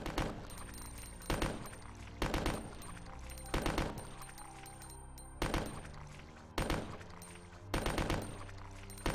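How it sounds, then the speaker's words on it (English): Gunfire in Resident Evil: Code Veronica, loud sharp shots in a steady rhythm roughly every second or so, each with a short echoing tail over a low background hum. "Okay, yeah, I'll shoot this one then."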